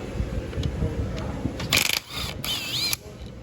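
Ratchet loosening bolts on the differential of a Lexus IS300 during a reseal job: quick mechanical clicking bursts up close, with brief metallic squeaks and pauses between pulls.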